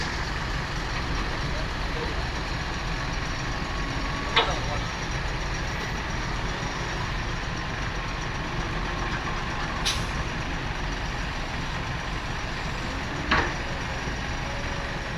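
A six-wheel truck towing a trailer manoeuvres at close range, its engine rumbling steadily throughout, with a couple of brief sharp hisses or clanks standing out over the continuous drone.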